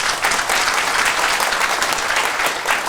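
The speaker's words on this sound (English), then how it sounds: "Could we give them a round of applause?" Sustained audience applause fills a forum hall at a peace economic forum in Seoul, steady and dense clapping throughout with no pauses.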